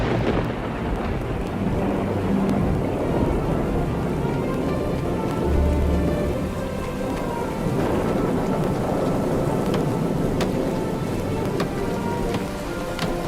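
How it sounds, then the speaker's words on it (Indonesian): Heavy rain pours steadily in a thunderstorm, with a dense, continuous hiss and low rumbles running beneath it for the whole stretch, loud and close with no voices. "Lalu turunlah hujan, datanglah badai dan banjir."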